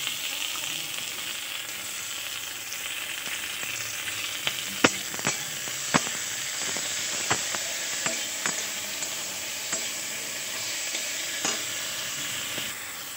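Chopped tomato goes into a pan of fried onions, bringing a steady frying sizzle with scattered sharp clicks and scrapes of a spatula stirring against the pan. It is close and moderately loud, and no one speaks.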